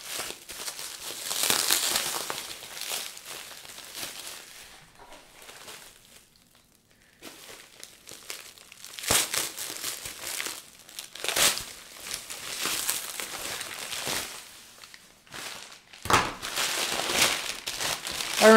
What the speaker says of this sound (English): We're unwrapping a gamer speaker.